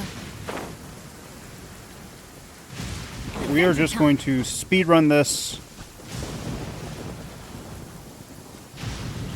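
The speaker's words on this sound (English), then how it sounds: "It always rains when I go on an adventure." Rain pours and thunder rumbles in the video game Genshin Impact, a broad steady downpour with a louder rolling swell in the middle while someone talks over it.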